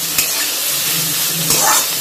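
Vegetables for veg pulao frying in a pan, a loud continuous sizzle and hiss up close, with two brief scraping clatters of the spatula as they are stirred, no voices.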